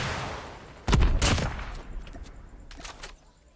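Gunfire from the Call of Duty Mobile video game: a sharp burst of shots near 0.9 seconds, a second volley just after, and a fainter cluster near 2.8 seconds, all over a steady game background.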